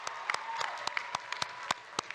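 Audience at a College of Arts and Sciences commencement ceremony clapping in a sustained burst of applause, with scattered sharper individual claps standing out over the steady wash of hands.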